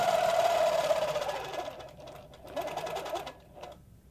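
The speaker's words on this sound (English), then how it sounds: "So I'm going to stitch along, and like Kim mentioned, I'm going to travel" Longarm quilting machine stitching along a seam line for crosshatch quilting, a steady close whirring hum that fades slightly and then resumes with short pauses as the ruler is repositioned.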